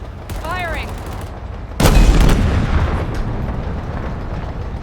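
Gunfire and a loud explosive burst in a Halo video game battle, a sharp blast followed by rumbling combat noise that stays loud and dense.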